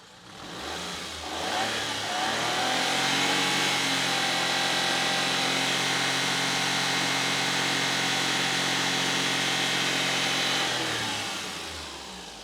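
A vehicle engine idles steadily just after a cold start, its hum loud and close and holding even for about ten seconds before fading slightly; the engine is suspected of a fault that forces strong coolant return flow.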